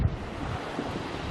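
Waves wash over a shingle beach at Sheringham as the tide recedes, below the promenade beside the sea-defence rocks: a steady, continuous rush of surf mixed with wind noise, with no distinct breaks.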